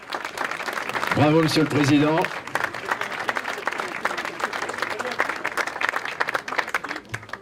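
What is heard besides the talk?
applause at ribbon-cutting inauguration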